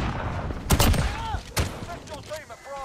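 Gunfire in Call of Duty: Modern Warfare, with a couple of loud bursts of shots amid game sound effects, while a player talks over it.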